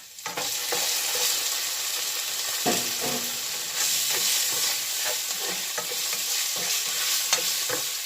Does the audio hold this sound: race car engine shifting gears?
no